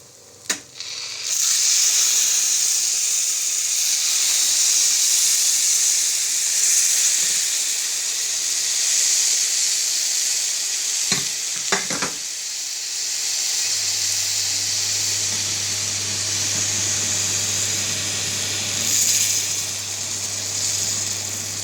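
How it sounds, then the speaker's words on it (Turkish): Syrup poured onto hot fried künefe in a home kitchen: a steady, loud sizzling hiss with a few brief clicks and knocks, followed later by a low continuous hum under the sizzle. "şimdi şerbet verme aşamasına geçiyoruz"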